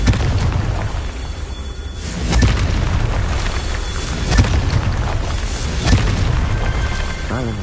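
Booming explosions from the Confringo blasting spell in the Hogwarts Legacy video game, with heavy low rumbles and several punchy bursts swelling over a continuous loud roar.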